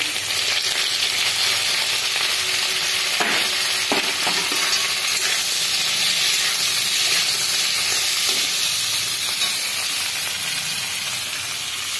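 Vegetables fry with three green chillies in a hot pan, a loud steady sizzle and hiss running throughout, with a few faint stirring scrapes and no voices.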